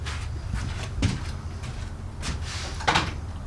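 A cabinet drawer inside a converted MCI bus tiny house slides and bumps several times in quick succession, each stroke a short wooden knock or rattle, close and moderately loud with no talking.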